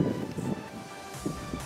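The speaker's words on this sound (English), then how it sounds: "It's judging the wind as well. Sometimes it's stronger than other times. So. You guys can probably hear it." Gusty wind buffets the microphone outdoors during a crossbar football challenge, a loud continuous rumble that swells and eases.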